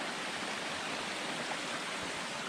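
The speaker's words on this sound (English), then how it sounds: "we're still going to be along the water for a little bit because there's a waterfall up here." A waterfall on a mountain trail stream along the Great Gulf route rushes in a dense, steady broadband roar, loud and continuous, with no voices.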